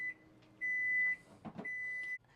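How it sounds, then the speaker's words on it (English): A microwave oven beeps when finished: three steady, high-pitched electronic tones, each about half a second, evenly spaced and fairly close, with a brief low rustle between the second and third. "The microwave just beeped."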